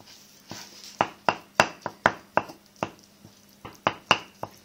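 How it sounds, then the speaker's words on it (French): Cheesecake batter mixed by hand in a bowl, giving a run of sharp, irregular knocks and scrapes of utensil against the bowl, close and fairly loud, with quiet pauses between strokes. "Puis je mélange."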